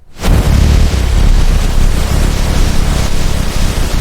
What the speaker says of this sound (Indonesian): Ledakan kedua terdengar.